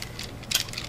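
Joints of a plastic Fuzor Injector Transformers toy from Beast Wars clicking as its feet are kicked out, a couple of soft ratcheting clicks with one brief, slightly louder snap in the middle, close up.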